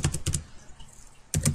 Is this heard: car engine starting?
no